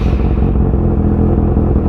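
Kawasaki ZX6R sport bike ridden at night, a loud steady engine drone filling the whole stretch with no talk.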